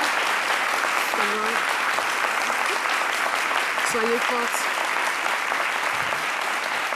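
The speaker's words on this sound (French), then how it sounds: "Vous voyez tous ces applaudissements," A studio audience claps loudly and steadily throughout a live French-language television talk show, with a few voices calling out over the dense, sustained applause.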